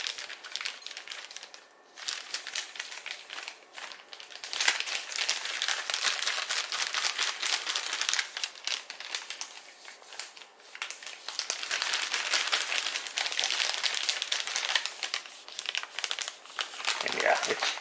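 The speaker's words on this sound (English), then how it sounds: "Fold this over. Give it a good shake" An MRE chili with beans pouch crackles and crinkles loudly and continuously as it is shaken inside a flameless ration heater bag, a dense, rustling plastic noise filling the whole stretch with only brief dips.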